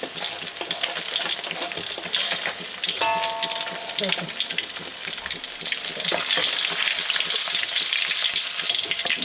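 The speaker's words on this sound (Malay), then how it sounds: "Ni goreng sayur dengan campur" Steady sizzling and crackling of mixed vegetables with oyster sauce frying in a hot pan, continuous throughout with occasional stirring clatter and a brief bell-like tone.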